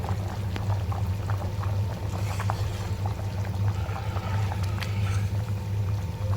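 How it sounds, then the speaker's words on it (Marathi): Moong dal khichdi with water coming to a boil in an open pressure cooker, a steady bubbling and gurgling simmer with a low rumbling hum and scattered pops, continuous throughout with no talking. "त्याला उखळ येऊन देऊया सगळं व्यवस्थित उखळ येऊन द्यायचं आपल्याला"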